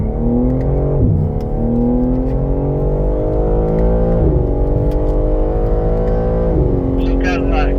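A green BMW M3 Competition pulls out of the pit lane at a motor club track. The engine revs loudly and close by, with pitch climbing through several gear changes. Someone talks over it.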